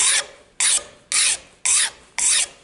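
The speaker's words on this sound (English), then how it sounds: "We always file up face grain." A rasp files up the face grain of a wooden flipper in five evenly spaced, crisp strokes, each a bright scraping burst separated by short pauses, close and clear.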